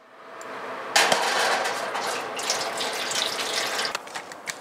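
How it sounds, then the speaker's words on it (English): Water splashing and hissing as it is poured into a hot oven preheating to 180 degrees for baking flatbread, a sudden burst of sizzling steam that stays steady for several seconds, close and fairly loud. "I'm adding some water"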